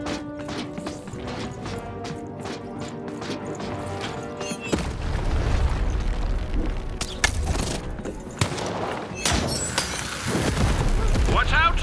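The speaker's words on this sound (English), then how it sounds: "Shoot the button to fire the cannon." Cannon blasts in a video game, a run of loud booming crashes and impacts arriving in bursts over busy game music and effects.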